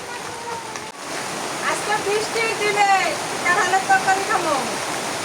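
Steady rain pours down outside a village home, a dense, close hiss throughout, while people talk over it.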